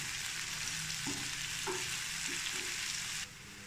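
Chopped onions with green chillies frying in a pan until light brown, a steady close sizzle with a few brief stirring scrapes, the hiss dropping slightly near the end.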